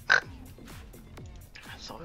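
A voice imitates a pig's oink in short, gruff nasal bursts during German-language game commentary, with one loud burst at the start and quieter grunts following.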